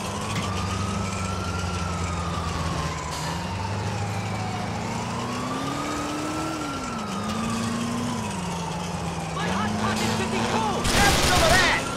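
A police car siren in the video game GTA 4 wails in long rising and falling sweeps over a loud engine rumble, continuing throughout with a burst of noise near the end.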